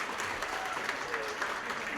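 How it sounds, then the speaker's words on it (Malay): Applause from an audience at a Malaysian two-star director recognition event, steady dense clapping throughout with faint voices mixed in. "Boleh tak bagi tepukan sedikit?"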